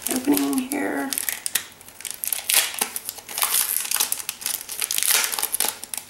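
Sticker packaging crinkles and rustles in close, busy bursts as it is opened. Brief speech is heard at the start.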